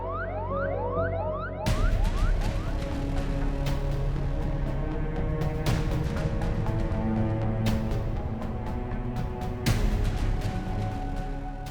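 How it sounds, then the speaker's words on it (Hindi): A wailing electronic ambulance siren: rapid rising whoops at first, then sustained steady tones that keep sounding loudly throughout. "एम्बुलेंस आ गई है।"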